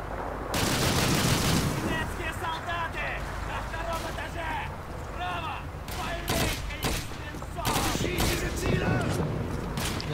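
Gunfire in the video game Call of Duty 2, dense bursts of automatic shots and booms over a constant loud engine-like rumble, with voices speaking between the shots.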